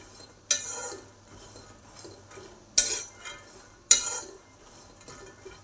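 Peanuts dry roasting in a pan over medium heat are stirred in three distinct scraping sweeps, each a sharp rustle that fades quickly, separated by near silence and a low background hum.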